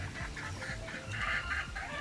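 Rooster clucking in a backyard farm among other fowl, a series of repeated low clucks with some brighter calls in the middle, fairly close and steady with no talk.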